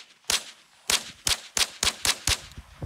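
Several gunshots crack in quick succession as shots are fired at a car, seven loud, sharp reports with short uneven gaps between them and no voices.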